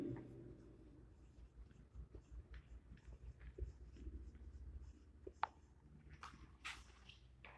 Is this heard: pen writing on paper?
yes